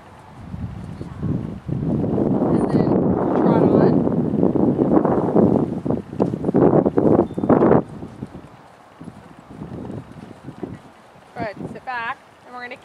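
Horse hooves in a riding lesson as the horse moves through walk and trot, a continuous rhythmic clip-clop of moderate loudness under wind noise, with a rider's coach talking over it.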